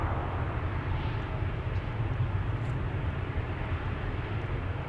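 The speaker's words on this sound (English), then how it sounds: "KLM Dreamliner to Toronto is also on the move by the looks of it" A KLM Boeing 787 Dreamliner taxiing at Amsterdam Schiphol gives a steady, moderately distant engine rumble and whine, unchanging throughout with no voices.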